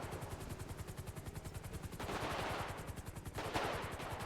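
Rapid automatic gunfire rattles steadily through a video-game firefight in a FiveM roleplay, loud bursts repeating in an even stutter with heavier volleys partway through.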